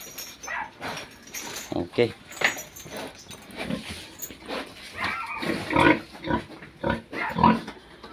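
Boar pig mounting a young gilt during breeding on a farm pen, with repeated grunts and snorts at close range, mixed with clanking and people talking throughout.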